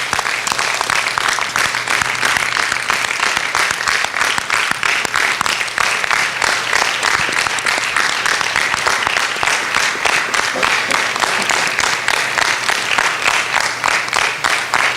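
A hall full of people clapping for an award winner at a dinner event, a thick unbroken wall of applause holding loud and even throughout.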